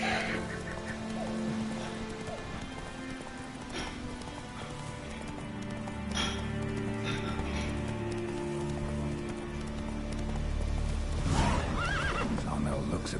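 Roach, the horse in The Witcher 3, gallops with steady clip-clop hoofbeats and lets out loud whinnies, with a voice talking over the game audio and music.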